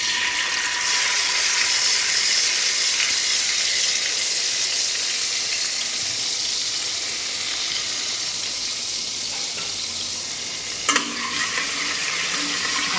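Chilli and cumin seeds are tempered in hot oil, sending up a loud, continuous sizzle and hiss close by, with one brief clatter of a utensil near the end.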